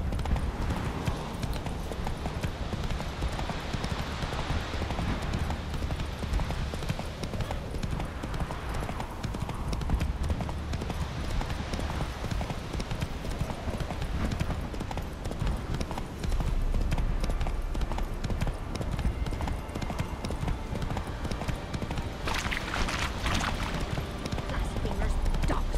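Horse hooves clip-clop steadily in The Witcher 3 video game, a continuous rhythmic trot under game ambience and a voice talking.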